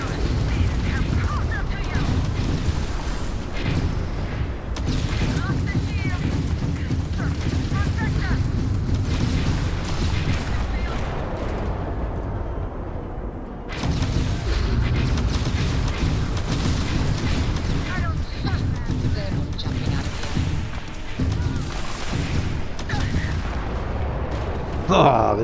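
Starfield spaceship combat with a ship fitted with 11 auto-turrets: dense, continuous bursts of turret gunfire and rumbling explosions fill the whole stretch, loud and close, with a brief lull midway.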